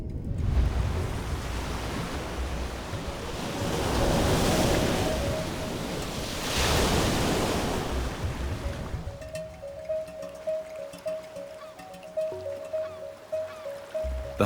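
Red Sea waves wash in broad surging swells of noise for most of the stretch, then give way to a quieter passage with a steady tonal hum and small irregular splashes.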